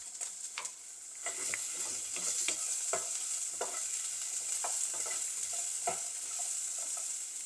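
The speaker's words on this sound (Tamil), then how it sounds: "இது நல்லா வதங்க விடுவேன்." Chili chicken ingredients sautéing in a pan, a soft steady sizzle under frequent clicking, scraping stirs of a spatula, close and fairly quiet.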